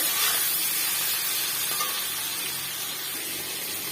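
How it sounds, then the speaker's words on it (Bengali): Onion and tomato fry in a pan with a steady, broad hiss and sizzle that holds at an even level throughout. No one talks over it. "দিয়ে এটাকে ভালো করে ভেজে নিতে হবে পেঁয়াজ আর টমেটোটাকে"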